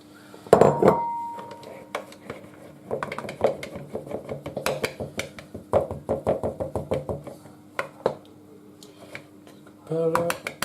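Dry ingredients with cocoa powder are mixed in a bowl for a chocolate concrete school pudding, giving irregular clinks, taps and scrapes of a utensil against the bowl, close and fairly steady, with a brief louder clatter near the start and again at the end.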